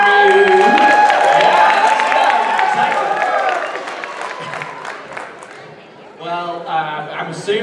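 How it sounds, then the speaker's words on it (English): Crowd cheering and clapping at a Kings Dominion 2017 passholder preview day, a broad roar of voices and applause that swells, eases, then rises again, with a voice speaking over it. "I'm assuming the Wi-Fi is what everyone's cheering about."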